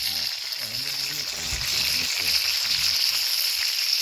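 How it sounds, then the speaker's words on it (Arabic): Food frying in olive oil makes a steady hiss and sizzle under a voice talking close by for much of the time. "بالزيت الزيتون مقلي هذا"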